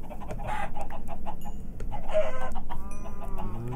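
Minecraft chickens cluck in short bursts, with a few higher squawks, over a low steady background hum.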